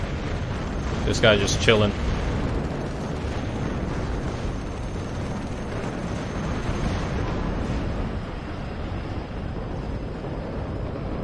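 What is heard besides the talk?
napalm strike explosions in WARNO video game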